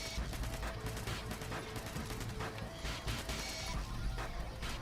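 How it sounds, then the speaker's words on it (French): Machine-gun fire in Fallout 76, steady rattling bursts with clattering impacts under a busy game soundscape, fairly loud and continuous. "Je le mitraille."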